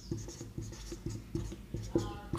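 Pen scratching across paper as a right-triangle math solution is written out, in a quick series of short rhythmic strokes, close and fairly faint.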